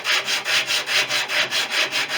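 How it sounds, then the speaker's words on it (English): Sandpaper of 100 grit on a flat board rubbing along the wooden leading edge of a Fisher Youngster V model wing, in about nine steady, even back-and-forth strokes, close and loud with no talking. "Now with 100 grit on a flat board, it's just a case of sanding away."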